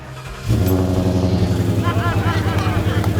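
A carbureted V6 Ford Mustang engine fires up from a low idle into a loud, steady, throbbing run close by, with a voice speaking briefly over it.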